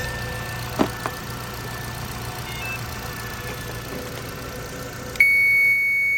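A 1.8-litre Nissan Sentra (B17, 2013–2019) being checked for a no-start fault idles with a steady low hum, with two faint knocks early on and a sharp electronic tone near the end.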